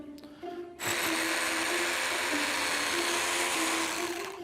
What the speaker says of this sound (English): I'm going to put a couple more holes in here.